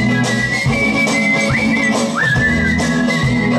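A person whistles a melodic tune over a steady musical backing, the whistled line gliding up into sustained held notes, loud and close throughout.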